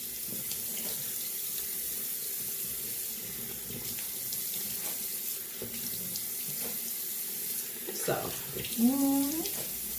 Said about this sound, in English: So I like to rinse mine with warm water and then dab it with cool.